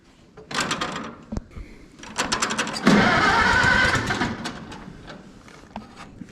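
An Oliver tractor engine on a farm cranks with the choke pulled, catching after a couple of tries and then running loud and steady up close before the idle eases off.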